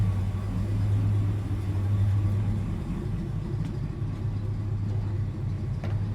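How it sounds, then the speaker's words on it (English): An old, long-abandoned Pontiac engine runs only on the fuel left in its carburetor, a steady loud low drone with a constant deep hum, continuing evenly without pauses and no voices present. "I can't believe it's running off of what's in the carburetor for this long."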